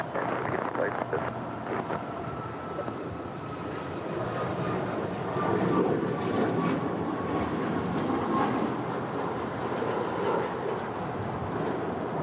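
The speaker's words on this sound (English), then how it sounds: "That is United 552 off to Denver on a 737 MAX 9" A United Boeing 737 MAX 9 takes off at LAX with a steady, broad jet roar that swells slightly midway, and voices are faintly present underneath.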